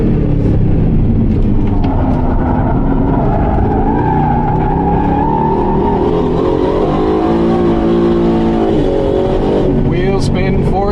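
Aston Martin Vantage driven hard and sideways, its engine droning and revving loudly under load with tires squealing and skidding, close and continuous with no pauses.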